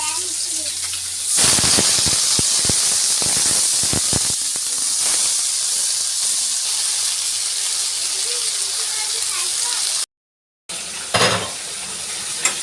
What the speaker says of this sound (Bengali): ফার্স্টে শাকটাই তেলে দিব, এটার জন্য ফার্স্টে রসুন দিলাম। এগুলো লাল করে ভাজবো